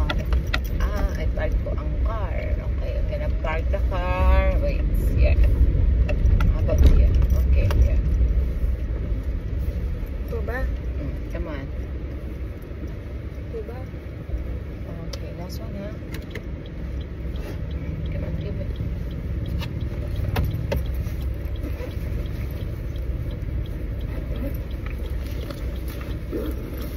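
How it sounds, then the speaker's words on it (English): A car's engine rumbles low and steady from inside the cabin while it is being parked, continuous throughout with people talking over it. "Okay, I'm gonna park the car."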